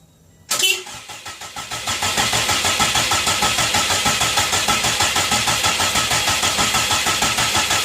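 A junkyard replacement engine in a Subaru WRX cranks and catches with a sudden burst, then settles into a loud, steady rhythmic idle close to the microphone, with no talk.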